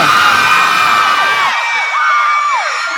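Festival crowd at a main-stage performance shouting and cheering loudly, a dense continuous roar with rising whoops and yells throughout the three seconds.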